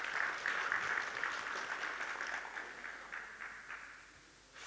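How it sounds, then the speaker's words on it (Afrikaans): Church congregation applauding after a worship song, a steady patter of many hands clapping that gradually fades toward the end, moderately distant and not loud. "Kom ons gee vir hulle 'n lekker hande klap."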